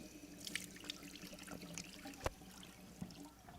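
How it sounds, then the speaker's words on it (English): Tap water running into a sink while makeup is rinsed off, a soft steady trickle with a few splashy drips and brief clinks, fairly quiet and close, with no talk. "We're going to rinse this off and try again."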